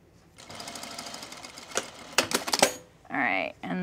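A home sewing machine stitches fabric with a long stitch length, a rapid mechanical whir and clatter up close that stops and starts in short bursts, with a brief higher whine near the end.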